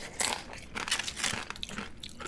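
Crisp, crackly crunching of Taco Bell nacho chips being bitten and chewed close up, several bright bursts in quick succession with no voices.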